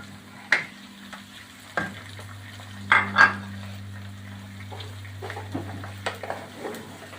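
Tomatoes go into hot oil in a pot of dhaba-style spinach and potato curry, with a sizzle under scattered clinks and scrapes of a spoon against the pan, several sharper knocks standing out.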